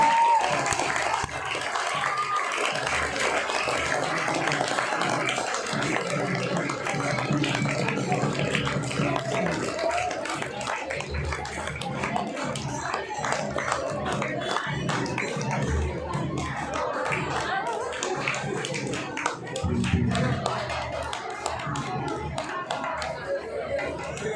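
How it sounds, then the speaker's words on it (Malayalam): Audience applause at an Onam gathering as Karthik is brought forward, a long, fairly quiet spell of clapping mixed with crowd chatter and voices. "കാർത്തികിനെ കൊണ്ടുവരുന്നത് കൈയടിക്കാം."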